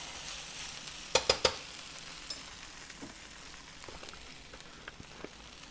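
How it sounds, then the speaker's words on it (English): Okra sizzling and frying in canola oil in a pan, a steady crackling hiss with a few sharp pops near the start and scattered light spatters after. "It's frying up real nicely."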